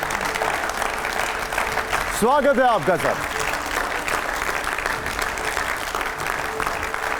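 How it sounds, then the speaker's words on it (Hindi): Applause from a studio audience welcoming Kerala Governor Arif Mohammed Khan, a broad steady clatter filling the clip while a voice speaks over it near the start. "जोरदार तालियां हमारे साथ सर"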